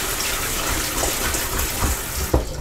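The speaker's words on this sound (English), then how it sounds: "Let me rinse these potatoes." Potatoes rinsed under a running kitchen tap while cooking corned beef and cabbage, giving a steady close rush of water with a few splashy knocks near the end.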